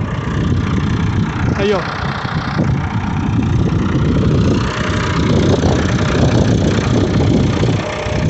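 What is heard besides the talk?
tractor raising a disc plow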